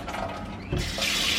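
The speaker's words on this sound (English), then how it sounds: "This just needs like a refill of water." Water is poured from a container into a glass jar holding pothos cuttings, a short splashing fill that starts partway through and rises in pitch as the jar fills, close by.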